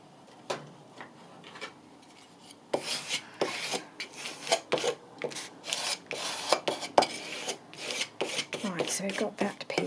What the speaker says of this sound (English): Where's my little scraper?